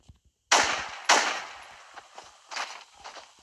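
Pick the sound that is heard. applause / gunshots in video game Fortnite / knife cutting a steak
gunshots in video game Fortnite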